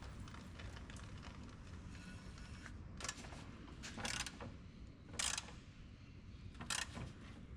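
A ratchet tightens the oil drain plug on a Suzuki Grand Vitara, giving a few short metallic clicking bursts over a low, steady background hum, with no talking.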